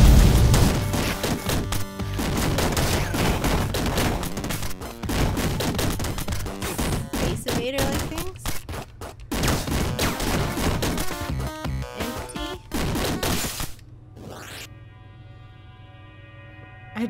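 Dense, overlapping gunfire blasts and crashing impacts from the retro game Downwell, loud and nearly continuous for most of the stretch, then breaking into a few isolated hits before a quieter humming tail.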